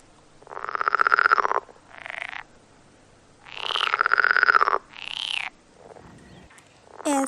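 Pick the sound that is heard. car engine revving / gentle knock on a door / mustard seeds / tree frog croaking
tree frog croaking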